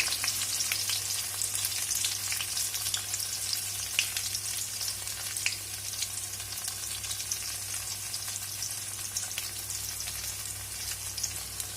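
Chilli, garlic and ginger fry in groundnut or coconut oil, a steady, fairly quiet crackling sizzle that holds evenly throughout with no talking.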